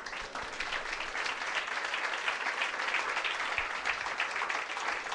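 A church congregation at a Sunday school service breaks into sustained applause, a steady wash of many hands clapping filling the room, with no talk over it.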